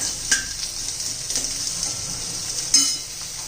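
Spices and onion roast in a pan for a spicy stuffed brinjal dish, giving a steady close sizzle with a couple of sharper scraping stirs standing out.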